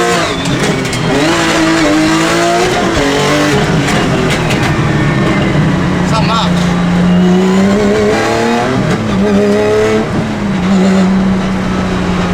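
A rally Porsche fitted with a pop and bang exhaust tune roars continuously nearby, its engine note rising and falling through gear changes with crackling bursts between revs.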